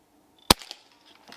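A Crosman 362 air rifle fires once at a target, a single sharp, close crack followed by a brief clatter and faint rattles. The surroundings are otherwise quiet.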